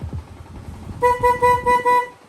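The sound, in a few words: horn of a Honda Sniper 150 motorcycle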